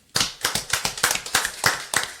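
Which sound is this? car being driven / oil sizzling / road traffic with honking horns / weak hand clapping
weak hand clapping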